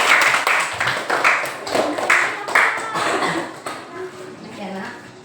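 A class of students claps together in a classroom, giving a few loose rounds of sharp, uneven hand claps that thin out and fade toward the end while voices murmur beneath.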